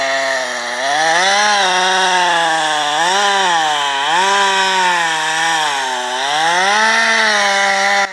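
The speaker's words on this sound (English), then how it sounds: "The sharp chainsaw screamed, its blade biting deep into the dense wood." A big chainsaw screams while cutting into a massive tree trunk in a deep forest, its engine pitch rising and falling in repeated waves as the blade bites into dense wood, loud and close.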